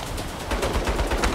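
Turret machine gun fire in the video game Saints Row, a rapid, evenly spaced stream of loud shots that continues without a break.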